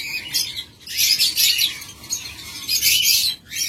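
A pair of lovebirds, an Opaline Fischer's male and an Ewing female, chirp in rapid, high, scratchy bursts that stay close and loud and almost continuous, with one brief dip near the end.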